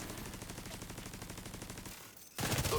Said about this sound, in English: That's some shooting.